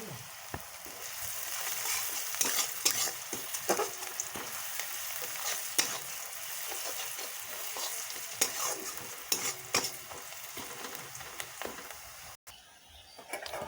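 Onions with a pinch of sugar and turmeric fry in a pan for chicken curry, giving a steady close sizzle broken by frequent scraping stirs and a brief cut near the end.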